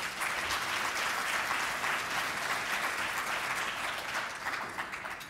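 A conference audience applauds steadily, a dense wash of many hands clapping at once, sustained for several seconds and tapering slightly at the end.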